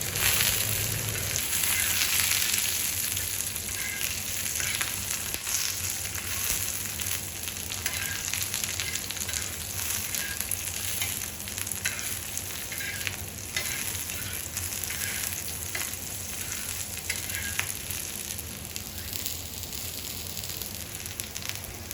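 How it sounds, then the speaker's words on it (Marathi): Garlic and chillies roast and sizzle in a pan, a steady close frying crackle with soft stirring scrapes running throughout, no voices. "लसूण मिरची चांगल्या प्रकारे भाजा"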